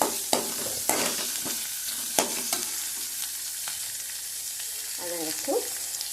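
Oil crackles and sizzles steadily in a pan with mustard seeds, fenugreek, curry leaves, chilies and shallots for a Tamil mor kuzhambu tempering, with a few sharp utensil clinks and soft stirring scrapes, close and fairly quiet.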